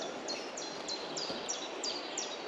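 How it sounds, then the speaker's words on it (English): Birds singing beside the River Doon during fly fishing: a repeated bright chirping phrase about every third of a second, clear above a steady wash of flowing river noise, with no talking. "Listen to the birds."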